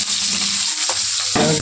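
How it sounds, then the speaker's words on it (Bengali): Sliced onions fry in a kadai at close range, giving a bright continuous sizzle with a few stirring scrapes and knocks, and no voices. "কোচানো পেঁয়াজগুলো কড়াই দিয়ে দিচ্ছি।"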